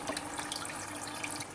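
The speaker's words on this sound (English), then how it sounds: "I'm dripping water everywhere" Water dripping and trickling while a potted Phalaenopsis orchid grown in semi-hydroponics is handled, a steady close wet patter filling the whole moment with no talk over it.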